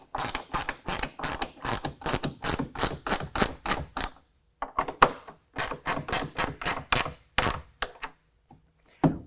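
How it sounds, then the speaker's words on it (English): Rapid bursts of ratchet clicking from a 1/2 inch ratchet tightening tie-down hooks on an Elevate rack system on a 2019 Ram 1500, close and loud, in quick repeated strokes with brief pauses between runs. "We're going to go ahead and set our tie down hooks where we want them and tighten those down with a 1/2 inch."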